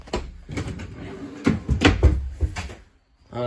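Bathroom door in a 2020 Kodiak 201QB camper trailer opening, a series of close knocks, rattles and a latch click, ending with a short scrape.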